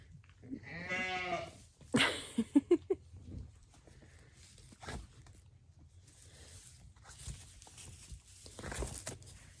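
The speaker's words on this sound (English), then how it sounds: "just out here with the bottle lambs right now" Bottle-fed lambs on a farm bleat nearby, with one clear rising bleat early on, followed by scattered shuffling, patter and rustling as they play, fairly quiet overall.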